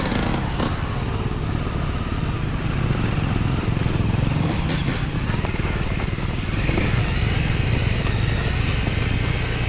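A Honda CRF250L motorcycle climbs a steep trail, its engine a steady, loud, close drone with no letup, mixed with rough crackling from the wheels on the ground.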